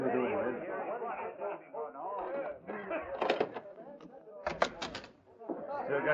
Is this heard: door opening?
yes